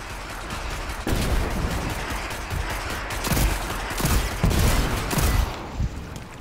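Rapid gunfire and explosions in Destiny 2, a dense continuous barrage of shots with heavier booming bursts, loud and close throughout.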